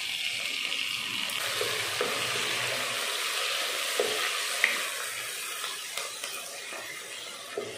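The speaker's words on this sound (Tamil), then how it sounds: "தக்காளி வெங்காயத்தை நல்லா வதக்கிடலாம்." Chopped onion and ripe tomato with curry leaves sautéing in a hot pan for a cabbage potato curry, a steady close sizzle with occasional spoon scrapes and soft taps, no voices.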